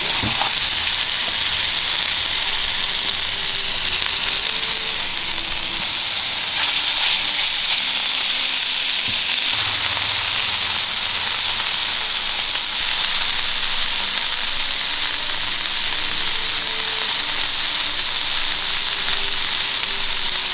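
A smash burger patty sizzles in oil on a hot surface, a loud, dense and continuous frying hiss that barely changes for about twenty seconds, close up and with no talking.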